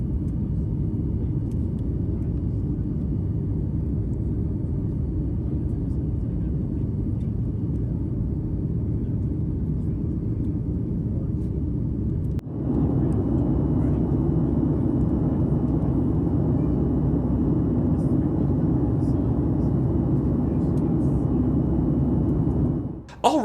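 An airliner cabin fills with a loud, steady engine roar during the climb to a 37,000-foot cruise, the drone stepping up in intensity about halfway through and holding there.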